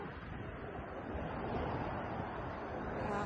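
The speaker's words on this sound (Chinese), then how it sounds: "你睇啲浪，呢个海浪，呢个声音" Ocean waves washing ashore at sunset on the coast of Rabat, Morocco, a steady, broad rushing wash, fairly faint and continuous with some wind, no voices.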